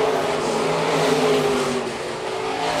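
Stock cars race on the dirt track at Phillips County Raceway, a loud, continuous engine roar with steady harmonic drone and slight pitch shifts as cars run down the back straightaway, no voices over it.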